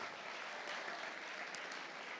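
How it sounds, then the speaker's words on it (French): An audience at a religious talk on the meaning of baptism applauds steadily and fairly loudly, a dense wash of many hands clapping without a break for the whole stretch. "Donc, vous applaudissez sur la durée ou sur le contenu?"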